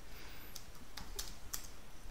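A few light, sparse clicks of keys being pressed on a computer keyboard during mainframe TSO/ISPF work, faint and quiet against a soft steady background hiss.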